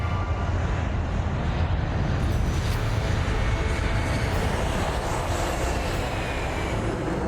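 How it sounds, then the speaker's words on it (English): An Airbus A380 jet roars steadily as it accelerates down the runway for takeoff, a loud, continuous broadband rumble with engine whine that holds constant throughout, with no talking. "under a cloudless sky, the A380 accelerates down the runway."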